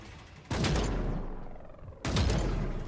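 Gunfire in the sci-fi shooter EVE Vanguard, two loud sharp volleys about a second and a half apart, each decaying into a rumbling tail.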